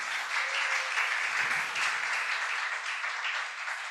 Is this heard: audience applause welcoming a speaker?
yes